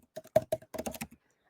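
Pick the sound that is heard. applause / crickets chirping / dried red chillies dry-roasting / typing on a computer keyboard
typing on a computer keyboard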